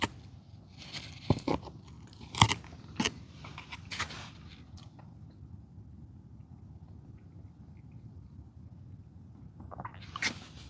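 Someone eats rehydrated camp meal outdoors on a day trip, with a few scattered crunchy bites and mouth sounds, fairly close but low, over a steady faint outdoor background without talk.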